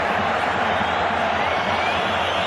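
A football stadium crowd cheering at a Real Madrid versus Osasuna match, a loud, dense, sustained roar of many voices with no break.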